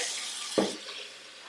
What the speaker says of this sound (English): Hot water evens out the mix.